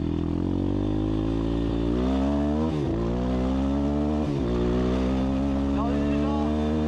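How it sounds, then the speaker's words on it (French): An Apollo RXF 150 dirt bike engine drones loud and steady while riding at speed, with harmonic engine tone and brief gear-shift dips, continuous wind noise, and other bikes nearby. "Belle sonorité ces motos là."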